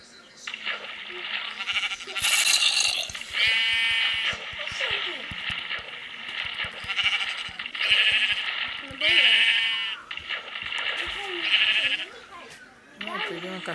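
Sheep in the video game Minecraft bleat repeatedly in loud, close bursts while a father and his young daughter talk over the game sounds.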